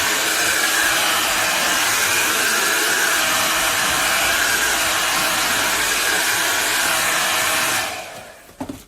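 A hair dryer blows steadily over a wet painting, a loud continuous whooshing hiss that runs for several seconds before cutting off near the end, leaving a few faint clicks.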